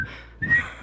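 A person whistles a few short, clear notes of the Andy Griffith theme, close to the microphone, with no talking.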